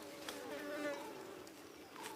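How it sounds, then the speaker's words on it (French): Bees and wasps buzzing steadily nearby, a faint droning hum with occasional brief louder passes, no voices. "il y a des abeilles, il y a des guêpes"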